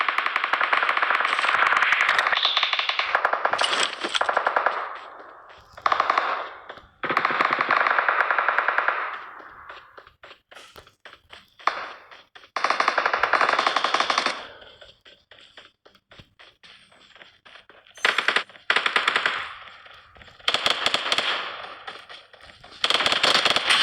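SCAR assault rifle fire in PUBG Mobile, loud repeated bursts of rapid shots with echoing cracks, separated by short quiet gaps and no talk over them.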